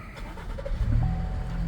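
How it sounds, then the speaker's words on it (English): A Chevy Traverse with a newly replaced battery starts up nearby, with a brief crank, then the engine catching and settling into a steady low idle. "Car starts, no issues"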